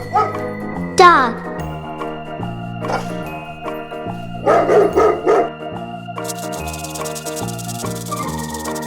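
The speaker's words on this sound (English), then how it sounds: "Dog." A dog barks in a few short bursts, a single bark early then a quick cluster in the middle, close and loud over upbeat background music with a jingling sound near the end.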